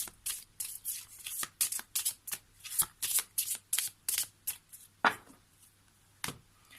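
Lenormand oracle cards shuffled by hand up close, a quick run of about a dozen crisp riffling bursts, then two more spaced out after a short pause.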